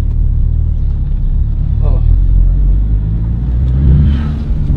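A car pulls away for a drive, its low engine rumble steady and close throughout, with people talking over it the whole time.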